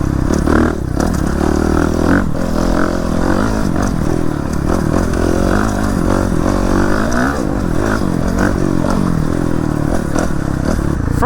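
A new motorcycle with only 33 hours on it is ridden with its engine roaring loud and close, holding a steady drone with surges of revving and wind rush throughout.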